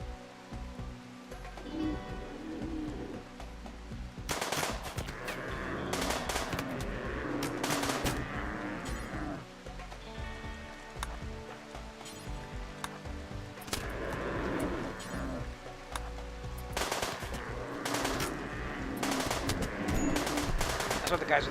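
Rapid bursts of gunfire from colonists' guns in the colony sim game Rimworld crackle in repeated volleys, with dense rattling clusters and brief lulls over a steady background.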